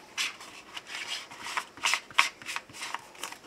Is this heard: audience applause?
no